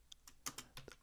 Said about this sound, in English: And in here I'm going to type